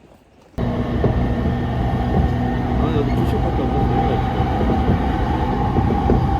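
A train in Japan rumbles loudly and continuously, kicking in abruptly after a brief quiet moment and holding a steady, dense roar to the end, with some voices mixed in.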